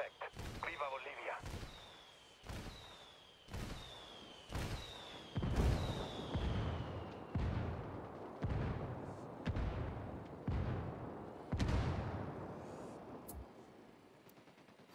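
Artillery strike in Ghost Recon Wildlands: a steady series of about a dozen heavy booming impacts roughly one per second, each with a sharp crack and rumbling tail, landing at a middle distance.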